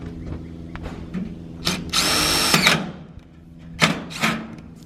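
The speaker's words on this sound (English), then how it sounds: "I don't know if I'm gonna get used to this drill, Greg." A power drill drives screws into metal trim at a lapped hem, giving two high-pitched whirring bursts, one longer in the middle and one near the end, with softer clicks and handling noise between.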